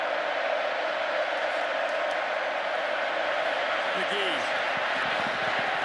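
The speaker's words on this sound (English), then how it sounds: "the Aggie crowd exhorting this defense" A Texas A&M Aggie football stadium crowd roaring to urge on the defense in LSU at Texas A&M, a dense steady wall of distant cheering throughout, with a commentator talking over it.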